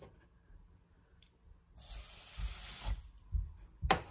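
Water poured into rice and split green gram for venn pongal, a soft hiss of pouring that starts partway through and comes in a few short surges, close and quiet with no talking.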